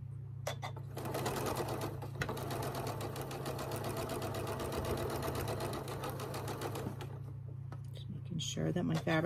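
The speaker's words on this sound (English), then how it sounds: "you're going to take it and you're going to sew 1/4 inch down" A sewing machine stitches a quarter-inch seam through quilting fabric for a patchwork table runner, a rapid, even mechanical chatter running steadily for most of the stretch before easing off near the end.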